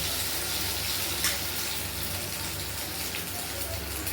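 A potato roll dipped in beaten egg fries in very hot oil in a village kitchen, giving a steady, close, even sizzle and hiss that runs unbroken for the whole stretch.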